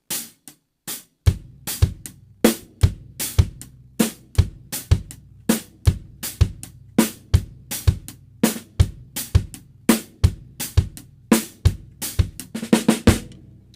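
A drum kit plays a steady, upbeat ska groove of kick and snare hits with sharp accents, dry and close, no voices.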